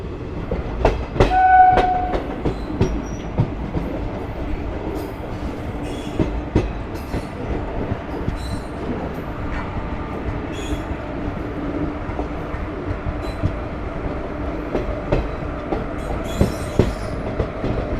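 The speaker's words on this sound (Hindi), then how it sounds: "हमारी ट्रेन का पैरेलल रेस हो रहा है ग्वालियर बरौनी मेल के साथ।" Ballia Sealdah Express train running in parallel with the Gwalior Barauni Mail, with a steady loud rumble of wheels and carriages, rhythmic clickety-clack, brief squealing wheels and a short horn-like tone near the start.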